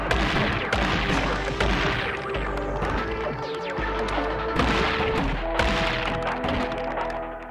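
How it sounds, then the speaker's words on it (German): Gunshots in the game Gato Roboto, a dense series of sharp thuds and crashing blasts, loud and up front, with layered game sound and no clear speech. "Zwei Schüsse brauchen wir noch"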